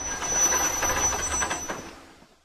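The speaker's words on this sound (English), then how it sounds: "Finally, the train stops." A train slows and comes to a halt, with wheel squeal, rumbling carriages and a faint hiss, the noise fading away to silence at the end.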